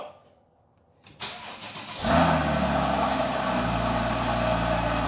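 A Porsche 981 Cayman S fitted with a new exhaust starts up after a second of near silence, then settles into a loud, steady, close idle rumble with no voices over it.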